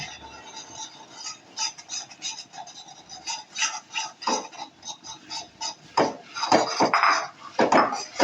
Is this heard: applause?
no